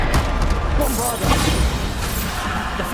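Bombarda blasts in Hogwarts Legacy combat, thudding booms and crashes scattered through a noisy fight, with a voice calling out over the action.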